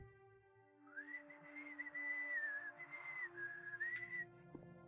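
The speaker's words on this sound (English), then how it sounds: "Okay, you suck at whistling." Someone whistles a wavering, off-key tune for about three seconds, a single thin sustained tone with small pitch wobbles over a quiet game background hum.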